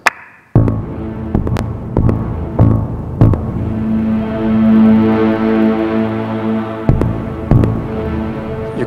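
A synthesizer driven by heartbeat readings from an infrared finger sensor turned into MIDI, producing a steady humming drone punctuated by regular throbbing pulses like a loud, close heartbeat.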